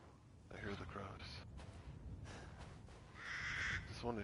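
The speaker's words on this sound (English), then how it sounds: "I hear the crows." Crows cawing in the Resident Evil Village video game, a few harsh calls amid game ambience and a voice talking over much of it.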